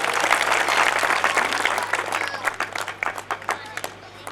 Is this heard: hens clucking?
no